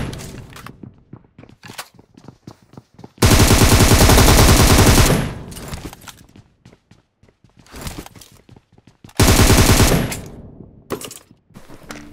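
Automatic gunfire in the mobile battle royale game BGMI during a duo-versus-squad fight: two long, loud sustained bursts separated by scattered single shots and thuds, with no talk.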